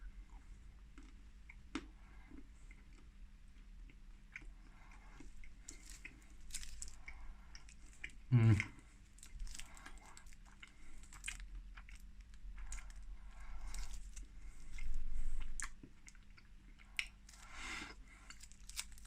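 A hazelnut chocolate being bitten and chewed in a taste test, quiet close mouth sounds with one sharp crunchy bite in the middle, then soft squishy chewing.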